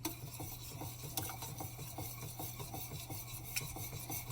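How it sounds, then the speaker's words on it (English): Gelatin is being stirred in a pot on the stove while making mousse. The spoon gives a steady, rhythmic scraping and rasping, close and fairly quiet, with no talk. "I'm just going to stir this."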